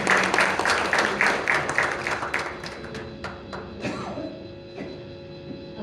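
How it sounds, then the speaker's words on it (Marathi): An audience at a live concert of melodious songs claps, the applause starting fairly full and thinning into scattered claps that fade out over a few seconds. "तर एकदा छान जोरदार टाळ्या होऊन जाऊ द्या."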